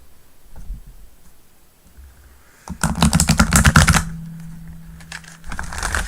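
Tarot cards being shuffled by hand during a live tarot and oracle reading, a loud burst of dense riffling clicks lasting about a second, then a quieter steady rustle and a brief final flurry.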